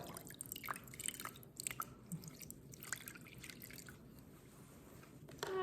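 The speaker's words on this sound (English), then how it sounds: "Then you're going to mix in your half a cup of water." Half a cup of water stirred with a spoon into glue for homemade slime, giving close, wet squishing and dripping sounds in an uneven rhythm throughout, with no talking.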